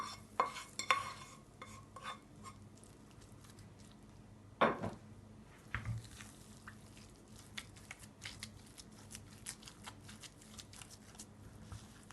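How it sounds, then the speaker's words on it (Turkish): Fried onion being stirred into a bowl of potatoes for katmer filling, heard as soft, wet scraping and squishing strokes with a few sharper utensil knocks against the bowl, close by and fairly quiet, with no talking. "Kavurduğumuz soğanı patatese döküp karıştıralım."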